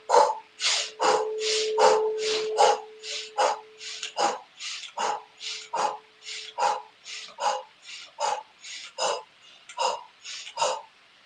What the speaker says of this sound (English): we're going to take some body breaths where we're going to breathe through the nose and breathe out